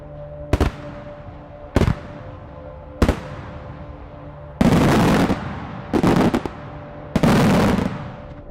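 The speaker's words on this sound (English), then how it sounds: "Have you ever witnessed daytime fireworks?" Six sharp explosive bangs from daytime fireworks at irregular intervals, the later ones longer with crackling bursts, each ringing out into a decaying echo.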